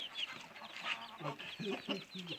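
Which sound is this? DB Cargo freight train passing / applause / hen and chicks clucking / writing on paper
hen and chicks clucking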